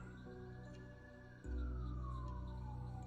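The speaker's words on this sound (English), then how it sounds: "Multiple ambulances here." Several ambulance sirens wail outdoors, a long rising-and-falling tone sweeping across the clip with a heavy vehicle rumble joining halfway through, fairly close and with no talk over it.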